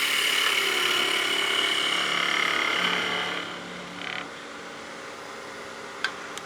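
A skew chisel cuts a domed wood surface on a spinning lathe, giving a loud, steady hiss and whir that fades to a quieter motor hum, followed by a couple of brief ticks.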